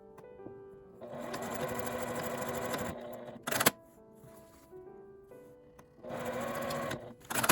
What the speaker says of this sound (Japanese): 端は5ミリぐらいのところに仮縫いします。